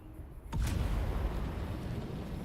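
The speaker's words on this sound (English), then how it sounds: "you guys are just watching the fireworks in the game?" Fireworks bursting in Dune: Awakening, a sudden sharp blast followed by a loud, sustained crackling rumble that fills the rest of the moment.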